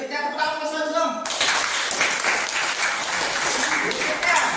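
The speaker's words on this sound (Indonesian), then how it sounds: "berikutnya tepuk tangan Mas Lazum." Applause for a presenter breaks out at an academic supervision session in Indonesia, a dense steady clapping from a room of people that follows a brief stretch of talking and carries on loudly to the end.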